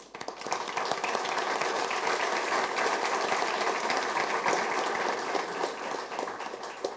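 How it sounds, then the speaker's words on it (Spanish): Audience applause fills a talk event, a dense sustained wash of clapping that starts almost at once and holds steady and loud to the end, with no voices over it. "Y un aplauso muy fuerte para ella."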